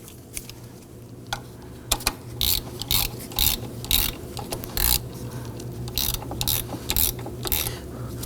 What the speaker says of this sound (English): let's go ahead and tighten down the bolt to secure it